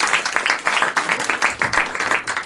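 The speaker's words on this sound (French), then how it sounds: "Et on applaudit aussi la dame" A theatre audience at a mediumship show in Paris applauds a woman, and a dense burst of clapping fills the room at close range for a couple of seconds.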